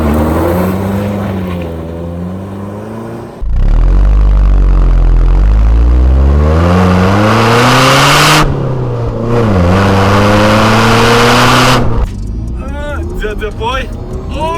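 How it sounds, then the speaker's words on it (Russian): Mercedes W202 with a supercharged Kompressor engine accelerating hard, a loud rising engine roar climbing through gears with sharp pitch sweeps and brief drops at shifts, heard from inside the car with people talking over it. "Она сначала такая набирает, потом компрессор походу включается, да?"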